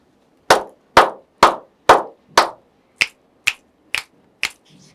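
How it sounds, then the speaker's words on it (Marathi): Five loud hand claps in an even rhythm give way to four crisper finger snaps, each a sharp isolated crack close by, counted out as tens and ones for a number exercise. "मी इथे टाळ्या आणि चुटक्यांचा वापर करणार आहे."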